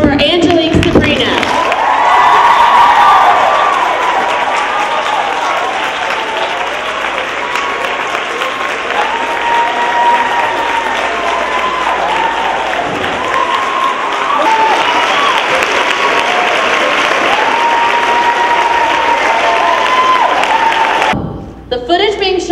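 A crowd on the set of a music video shoot cheers and applauds in a sustained wash of clapping and shouts, with voices mixed in, before the noise cuts off sharply near the end.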